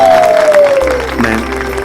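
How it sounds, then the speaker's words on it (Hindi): Audience applause welcoming the chief guest and school principal at a formal function in a Bhojpuri film scene, a dense crowd clapping steadily throughout, with music tones running underneath. "जोरदार तालियों से स्वागत किया जाए।"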